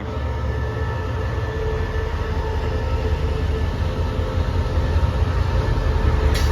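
Express train 172 stands at Hat Yai Junction in Thailand during a locomotive change, giving off a steady, loud, close rumble of rail equipment that builds slightly toward the end.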